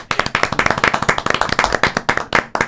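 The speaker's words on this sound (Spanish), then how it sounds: "vamos a recibirlo con un aplauso" A studio audience claps to welcome a guest doctor onto a talk show, a dense, steady burst of close hand claps filling the whole moment without any voices.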